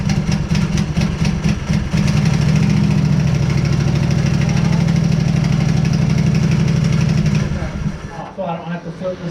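A small engine fitted on a machine, bigger than its stock engine, starts and runs at a loud, steady idle for several seconds, then dies away near the end.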